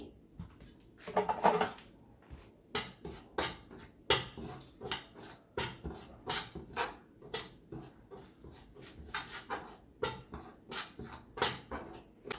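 Semolina being stirred in a pan for sooji halua, a run of repeated scraping and knocking strokes of a spoon against metal, fairly close and steady in rhythm, with no talk over it.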